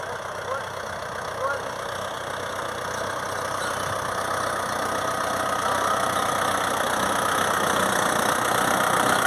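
A Kubota MU 5501 tractor engine runs steadily while sowing garlic in a field, a constant mid-to-low drone that holds a fairly even level and grows slightly louder toward the end, with no talk over it.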